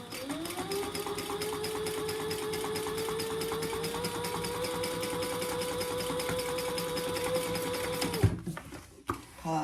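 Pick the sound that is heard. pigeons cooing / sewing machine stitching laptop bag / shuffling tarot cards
sewing machine stitching laptop bag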